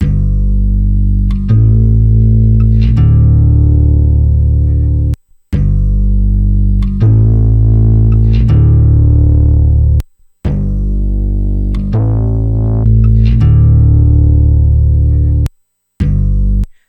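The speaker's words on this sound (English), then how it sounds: "You can really hear the distortion right around here." Distortion from a Kiive Audio VX q EQ colours a loud, sustained musical signal, a thick saturated tone in long phrases broken by a few short silences.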